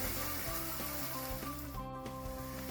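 Onion, garlic and leek sofrito sizzling in a pan, a steady soft frying hiss under a rhythmic, repeating musical backing.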